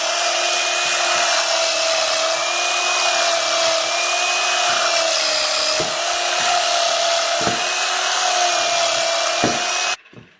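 A Moulinex 450 W two-speed hand blender whirs loudly and steadily for about ten seconds with a constant motor whine, cutting off abruptly at the end.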